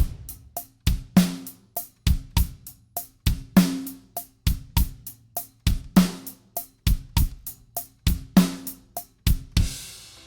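A drum kit groove at a brisk tempo, with steady hi-hat eighth notes, punchy kick drums and snare backbeats, repeating evenly and close, with no talking.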